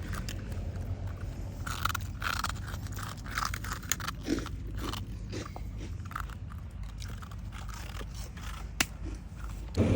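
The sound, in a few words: animal crunching crispy food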